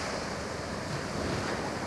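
Strong wind buffets the microphone while surf washes in steadily on a long windsurfing beach in Spain, a constant roaring noise with no voices.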